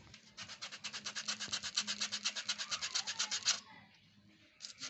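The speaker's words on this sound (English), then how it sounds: "So in this case, I'm using this sandpaper. I'm going to make this one rough here." Sandpaper rubbed back and forth on a sandal sole for a craft sandal, producing a fast, even rhythm of raspy strokes up close before it stops.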